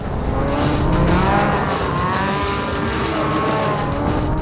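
A 32-year-old vintage snowmobile launches off the line in a quarter-mile drag race, its engine roaring loud and steady with a rising whine throughout, crowd and track noise underneath.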